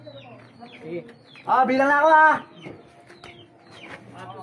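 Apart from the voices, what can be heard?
birds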